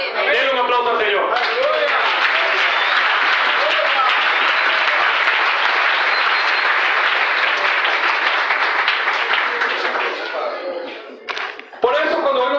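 Sustained, loud applause from a church congregation at a regional conference, dense clapping filling the space with some voices mixed in, tapering off near the end.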